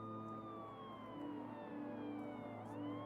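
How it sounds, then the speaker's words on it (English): A police siren wails steadily, its pitch sweeping slowly downward, distant and fairly faint over a low background hum. "Why is there a police siren in this sound?"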